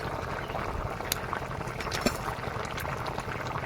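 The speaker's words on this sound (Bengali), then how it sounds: "মাছ দিয়ে দিলাম তরকারি ফুটছে" Fish curry bubbling in a pot, a close, steady wash of boiling and popping with a couple of small sharp splashes.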